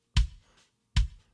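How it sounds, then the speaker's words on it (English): Two close, sharp kick drum hits captured by a microphone inside the drum, each a clicky attack with a short low thump, spaced under a second apart with no voices. "we got an inside kick drum that sounds like this"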